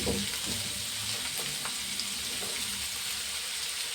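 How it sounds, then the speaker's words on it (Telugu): Small-cut ridge gourd pieces sizzle in a hot oiled pan, a steady frying hiss with a few soft stirring clatters, fairly close and without talk. "రెండు ముక్కలు వేస్తున్నాను, బీరక ముక్కలు చిన్నగా కోసుకున్నాను."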